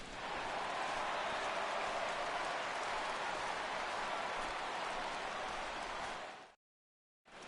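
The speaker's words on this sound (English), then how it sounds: "he receives a nice ovation from this home crowd" A home crowd in a baseball video game on PS4 cheers and applauds in a steady, loud roar of ovation for a departing pitcher, holding for about six seconds before cutting off abruptly.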